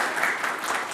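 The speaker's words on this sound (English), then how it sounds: "maybe we just give a quick applause to Maciek for all the effort he does" A meetup audience gives a brief burst of applause, an even rush of many hands clapping together at moderate loudness.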